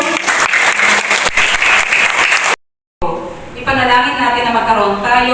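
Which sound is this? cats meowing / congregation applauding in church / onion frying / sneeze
congregation applauding in church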